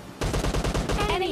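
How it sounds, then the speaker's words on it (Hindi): Rapid, closely spaced bursts of gunfire from PUBG Lite mobile gameplay, loud and sharp, with a higher ringing tone trailing near the end. "AWM का भी कुछ शॉट देख लो।"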